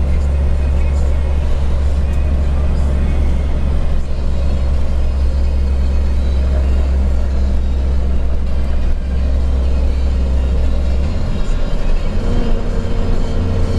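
A truck engine labors uphill with a loud, deep, continuous rumble close by, holding steady throughout and dropping slightly in pitch near the end.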